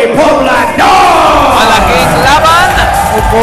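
An arena crowd at a PXC 29 fight event roars and cheers loudly throughout, with shouts and whoops rising over a dense babble of voices.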